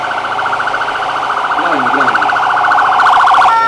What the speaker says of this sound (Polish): Uwaga, przejazd na karetki.